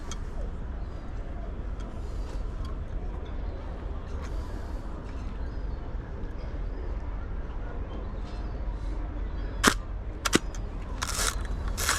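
Mechanical clicks from a Hasselblad 500CM film camera shutter loaded with Fuji Pro 400, several sharp snaps near the end over a constant outdoor rumble, with a few lighter ticks earlier.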